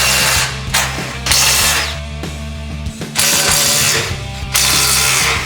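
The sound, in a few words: removing 17mm screws from Toyota Tacoma skid plate hook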